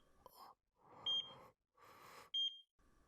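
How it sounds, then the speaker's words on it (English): A medical monitoring device beeps at regular intervals in the visual novel Chaos;Child, two short high electronic tones over soft breathing-like sounds, fairly quiet. "I could hear a monitoring device near her, beeping at regular intervals"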